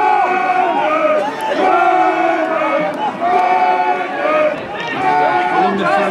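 Rugby league crowd at a London Broncos versus Swinton Lions match, a loud sustained roar of cheering and shouting voices filling the stadium, swelling and dipping in waves.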